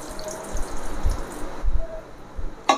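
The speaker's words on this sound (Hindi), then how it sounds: "तो हम पहले ना पानी डालेंगे थोड़ा सा।" Water is poured into a bowl to make bread pakora batter, a short trickle with a few soft drips and low thumps of the container, ending with a brief clink.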